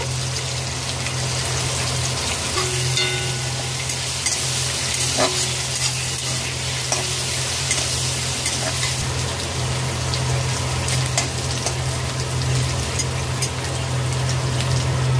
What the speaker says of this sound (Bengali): পনির 1 মিনিট ভেজে নিয়েছি।